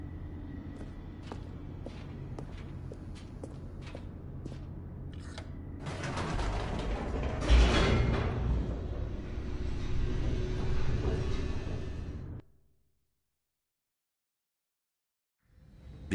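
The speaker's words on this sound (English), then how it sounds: "The elevator raced downward, plummeting towards an unknown fate." An elevator descends in The Stanley Parable with mechanical clanks and a building rumbling drone that swells loudly, then cuts abruptly to silence before a faint return.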